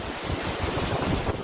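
Storm surge waves and strong wind from Hurricane Ian, a Category 4 storm, in Fort Myers, heard as a loud, continuous roar of churning water and buffeting wind with no voices.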